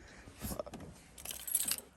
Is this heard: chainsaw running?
no